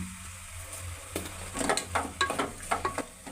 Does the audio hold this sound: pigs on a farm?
no